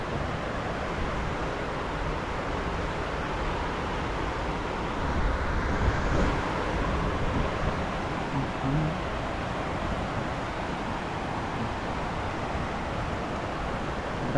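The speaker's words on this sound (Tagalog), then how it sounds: "Grabe yung lakas ng ulan." Heavy rain pours down steadily outdoors, a dense, unbroken roar that swells slightly midway and holds at a constant loud level throughout, with no talking.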